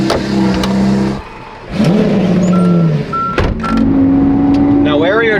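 A car on twisty mountain roads in the French Alps revs and shifts through gears, its engine note dropping and climbing again, close and loud, with people talking over it.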